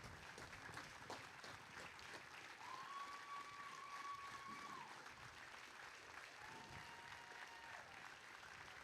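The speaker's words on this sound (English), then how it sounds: "Let's give all these brave men and women one more round of applause" A distant crowd at a high school baseball game on Military Appreciation Day applauds service members, a faint steady wash of clapping with a thin whistle-like tone rising over it.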